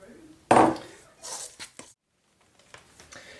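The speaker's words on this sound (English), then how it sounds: "using a fork, I'm just going to start working that together" A fork works stromboli dough together in a bowl, giving a sharp clinking scrape followed by several quieter taps and squishy scrapes, with brief pauses of near silence between them.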